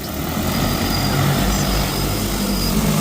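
A propeller aircraft engine runs loud and steady as the plane prepares to take off on a grass strip, a constant close drone with a low throb and no talking.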